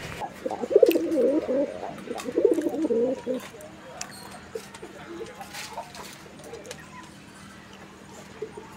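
Giribaz pigeons coo close by in two low, rolling bursts near the start, then fall quiet; scattered chirps and light background noise fill the remainder.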